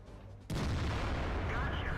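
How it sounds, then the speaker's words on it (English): A tank destroyer fires a single shot in World of Tanks, a sudden loud boom at about half a second that leaves a dense, sustained rumble of battle noise behind it. "Fires in a great shot there to take out the AMX 1390 at the start of the game."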